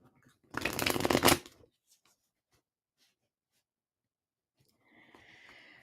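Tarot cards shuffled in one loud, dense burst lasting about a second, then near silence, with a faint rustle of handling at the end.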